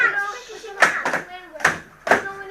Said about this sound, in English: Keep stacking the cups, cups go up, cups go up, cups go down